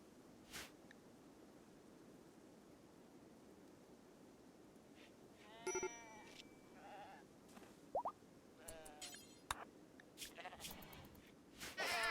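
Occasional faint sheep bleats in the video game RimWorld over a soft ambient hiss, a few brief calls spaced out, with light plops and rustles.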